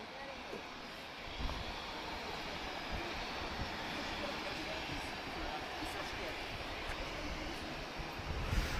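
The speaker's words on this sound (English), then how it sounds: "Lots of aircraft taxiing towards us now." Aircraft taxi at Lisbon Airport, making a steady broadband engine roar that stays moderately distant and constant, with a slight swell toward the end.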